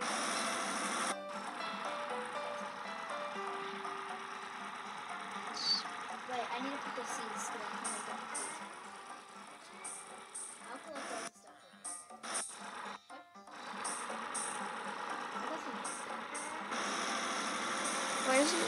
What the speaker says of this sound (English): I'm gonna go over here and get in this giant tractor thing and just scoop up the stuff.